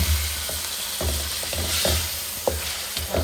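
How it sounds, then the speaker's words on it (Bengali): Pieces of rohu fish fry with spices in hot oil, giving a loud, constant sizzle close to the microphone. A spatula stirs and scrapes at a roughly regular pace, and no one speaks. "মাছ দিয়ে মাছ আর মশলা একসাথে কষাবো।"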